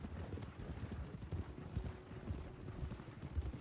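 Horse hooves clip-clop at a steady walking pace in Red Dead Online, soft and fairly close over a low rumbling background with a faint tonal hum.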